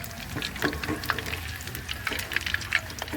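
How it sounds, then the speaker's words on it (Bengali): Cauliflower pakoras fry steadily in hot oil with spices, giving a continuous close sizzle and crackle, with a few sharper pops scattered over it and no talking. "এগুলো এখন ভেজে নিব মশলা করে"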